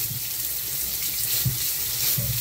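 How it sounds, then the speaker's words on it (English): Water runs hard from a newly installed Moen Karis faucet in a bathroom and splashes everywhere. A loud, steady hiss of flow is broken by occasional low splashes. "But now water's like way too much splashing everywhere."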